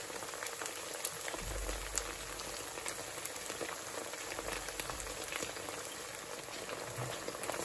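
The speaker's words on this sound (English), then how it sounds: "So here you can see my steak frying nicely." A steak with tamarind and ginger frying in a pan, producing a steady, faint sizzling crackle that continues evenly throughout with no talk.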